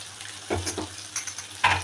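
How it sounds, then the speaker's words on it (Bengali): Potato and pointed gourd curry sautéed with spice powder and a pinch of sugar in a pan, a low sizzle with a few quick stirring scrapes and one louder stroke near the end, close and without voices. "ওটা দিয়ে ভালো করে এগুলো কষিয়ে নেবো একটু"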